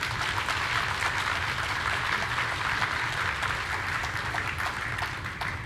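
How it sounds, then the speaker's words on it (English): Concert audience at an Australian–Indonesian cultural event gives a steady round of applause, dense, even and continuous throughout at moderate volume. "Please give a round of applause to tonight's event."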